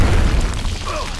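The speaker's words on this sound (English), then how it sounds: "don't get damaged by the explosion." An explosion in the XCOM: Enemy Within video game during an HQ defense battle, a short loud deep boom with a rumbling low-end tail and no speech over it.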